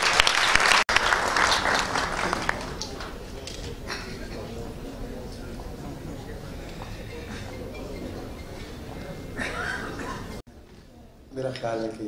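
A concert audience bursts into sustained applause to welcome a tabla player, steady clapping filling the hall for about ten seconds before cutting off abruptly, with a short burst returning at the end.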